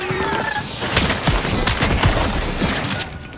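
Rapid crackling bursts of small firework-like explosions pop and snap in quick irregular succession during combat in the Outer Worlds 2 video game, loud and dense throughout.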